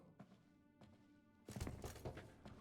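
Someone knocks on barrels in The Witcher 3, listening for a hollow sound; a few soft taps come first, then a louder burst of dull wooden thuds near the end.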